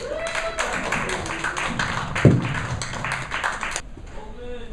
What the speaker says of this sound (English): I'm going to leave you guys with that round of applause for your boy, Oh Boy